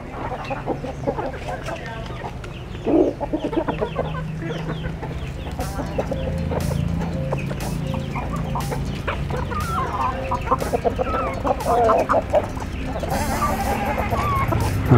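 Turkeys and chickens, including a Brahma rooster, cluck and call in a poultry yard, with a steady mix of clucks close by and farther off as a voice talks throughout.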